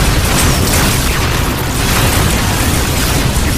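Low-yield torpedo explosions from a sci-fi battle, a loud continuous rumbling barrage of deep booms and blasts that fills the whole stretch with no talk.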